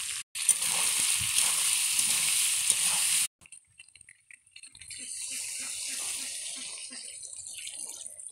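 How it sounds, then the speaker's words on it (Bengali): Hot water is poured into boar meat curry frying in a pan, giving a loud, bright hiss and sizzle that cuts off abruptly. Quieter bubbling and sizzling follow, with faint scattered sounds. "গরম জল দিয়ে দিলাম।"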